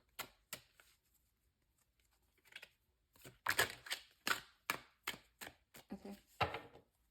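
Tarot cards being shuffled by hand, a string of crisp riffling and slapping bursts that grow denser and more rhythmic, close and fairly quiet with no speech.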